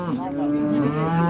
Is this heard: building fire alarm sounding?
no